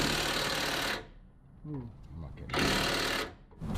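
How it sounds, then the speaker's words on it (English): An impact gun hammering at a Toyota FJ80 Land Cruiser axle nut, two loud bursts of rapid rattling about a second long each, separated by a brief pause with a voice speaking. "Our impact gun wasn't up to the task"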